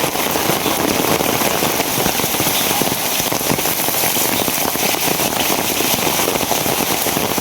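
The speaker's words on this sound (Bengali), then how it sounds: "বৃষ্টির স্পিড অন শুধু খালি বাড়তেই আছে।" Heavy rain pours down steadily and loudly, a dense unbroken hiss with scattered sharp drop impacts throughout.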